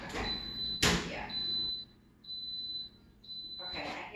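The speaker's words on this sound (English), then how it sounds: "It's beeping." A food dehydrator gives a high, steady electronic beep, repeated in about three long tones with short gaps between them, after a sharp clatter and some kitchen rustling.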